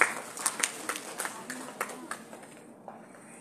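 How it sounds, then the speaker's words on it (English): A crowd at a stage ceremony claps for a performer, with scattered individual hand claps rather than dense applause, fairly faint and tapering off toward the end. "Please welcome Khushi Rana with a big round of applause."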